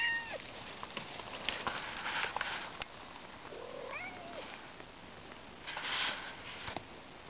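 A cat meows in a forest, a few short mews scattered over a hushed outdoor background with faint rustling, the calls fairly close but soft.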